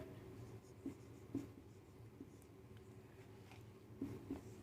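Pen or chalk writing during a Sanskrit coaching lesson, faint scratchy strokes in short bursts at a steady pace, quiet and close with no talk.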